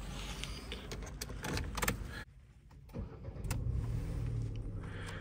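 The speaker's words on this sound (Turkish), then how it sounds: "Aracımızı da şöyle küçük bir çalıştıralım." A Ford Focus Trend X with a 1.5-litre 123 hp petrol engine and automatic gearbox starts up: a brief click and whirr of the starter, a short pause, then the engine catches and settles into a steady, fast cold idle nearby.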